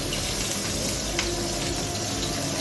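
Sea salt sizzles on a ribeye steak in a preheating Ninja multi cooker, a dense, steady hiss and crackle that stays loud and even throughout, with no talking.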